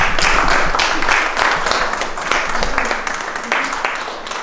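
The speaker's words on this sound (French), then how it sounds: "On peut s'applaudir quand même." A few people applaud themselves in a garage workshop beside a restored car, steady close clapping that stays loud throughout, with voices mixed in.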